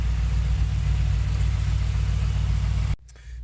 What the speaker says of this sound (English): So now that I have the vehicle started up